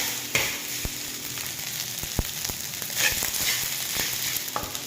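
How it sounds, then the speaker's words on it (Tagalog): Garlic fried rice with egg sizzling in oil in a home kitchen, a steady crackling fry with scattered sharp pops and stirring scrapes, close and moderately loud, no voices. "luluto tayo ngayon ng sinangag"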